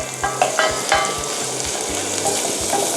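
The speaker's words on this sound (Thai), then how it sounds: "พยายามเกลี่ยมันมารวม ผัดให้มันคลุกเคล้าให้เข้ากันครับ" Tomato pasta sauce sizzles as it is stir-fried in a hot pan, with loud, close scraping strokes of a utensil at a quick, uneven rhythm over a bright frying hiss.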